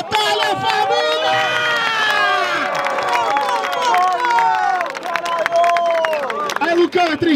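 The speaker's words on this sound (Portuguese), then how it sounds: "Palmas pra essa batalha, família!" A crowd at the grand final of a Brazilian street rap battle claps, cheers and whistles loudly and continuously, a dense roar of many voices and hands.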